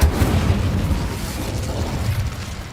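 Incendio fire spell cast in Hogwarts Legacy, a loud, close burst of roaring flame that hits hard at the start and then rumbles on with a dense, explosive crackle as it slowly fades.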